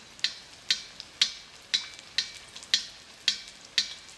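Saltfish accra fritters frying in a pan, a soft steady sizzle broken by sharp regular ticks about every half second, close and fairly quiet with no talk.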